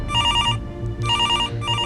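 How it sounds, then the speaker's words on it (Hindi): An old-style telephone bell ringing at a house in Varanasi's Sigra area, bright trilling rings in two bursts separated by a short gap, loud and close with no speech. "फोन बजा।"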